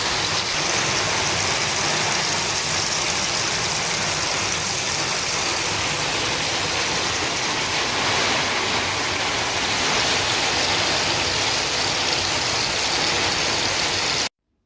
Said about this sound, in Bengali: আর বাইরে কিন্তু প্রচণ্ড বৃষ্টি হচ্ছে।